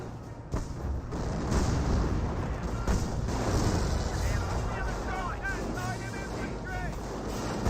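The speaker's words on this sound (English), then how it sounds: "I hear 25 pounders raining on top of the Flak 88." 25-pounder artillery shells pounding a Flak 88 position in Company of Heroes, repeated heavy booming impacts at irregular intervals over rumbling battle noise, with someone commentating throughout.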